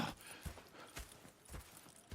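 Horse hooves clip-clop in Red Dead Redemption 2, a steady walking rhythm of soft, close thuds repeating about every half second against a faint background.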